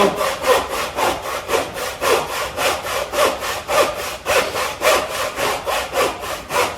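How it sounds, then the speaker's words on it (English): A wood saw cuts through pallet wood in steady back-and-forth strokes, roughly two or three per second. The rasping is close, loud and even, with no talking. "So just opening that up with a wood saw."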